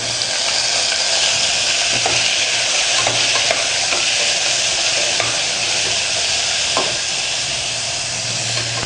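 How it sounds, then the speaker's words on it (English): Tomatoes and onions for mutton khorma fry in a pan with a loud, continuous sizzle and hiss, close up, with occasional faint scrapes of stirring and no talking. "Fry till the tomatoes are tender."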